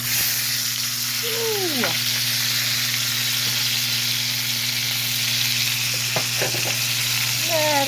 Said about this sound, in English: So I'm going to melt my butter.